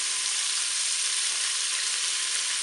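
Steady, loud, unbroken sizzling from a Cookeo multicooker pot holding chorizo, courgettes and rice, as the contents are stirred. The bright frying hiss stays close and constant throughout, with no talking.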